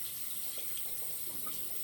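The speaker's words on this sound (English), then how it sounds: "I'm gonna rinse the razor off." A steady stream of tap water splashes close by as a vintage Czechoslovakian Astra 901 TTO safety razor is rinsed off under it, even and unbroken throughout.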